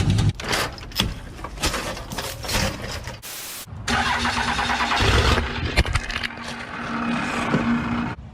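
A diesel engine starts up after cranking, a 6.5 diesel waiting to be revived, with rough clattering bursts then a steady loud idle close by.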